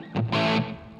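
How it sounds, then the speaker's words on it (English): Electric guitar with a very short slapback echo: a brief distorted note, then a fuller sustained chord that livens the sound like a small room reverb, close and loud. "So it's a super quick slap back"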